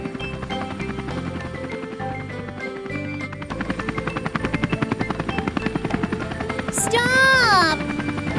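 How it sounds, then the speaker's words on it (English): A cartoon helicopter's spinning rotor chops in a fast steady rhythm over busy background music, growing louder partway through, followed by a bright rising and falling whistle-like effect near the end. "You can't go onto the platform until the helicopter's propellers have stopped spinning."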